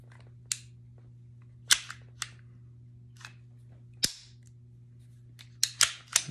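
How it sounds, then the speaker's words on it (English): A Colt Pre-Woodsman pistol being dry fired on a workbench, giving a handful of sharp metallic clicks and snaps spaced irregularly over a steady low hum, close and fairly quiet. "know you shouldn't dry fire it, but to make sure it works, it's not the end of the world."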